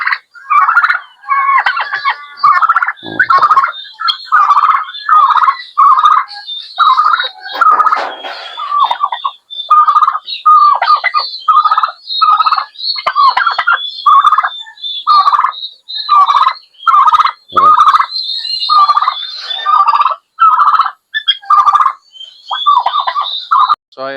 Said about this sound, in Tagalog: So ito naman yung sa mga manak natin.